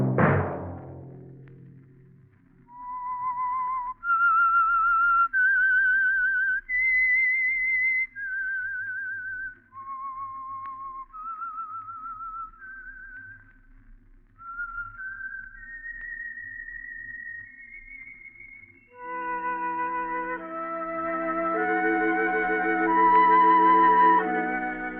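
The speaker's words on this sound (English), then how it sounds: "Let that whistle be your signal for the Signal Oil program, The Whistler" A whistled theme melody, the signal tune of the Signal Oil mystery radio program The Whistler, rises and falls as a lone whistle in clear sustained notes, then swells into a fuller orchestral passage near the end.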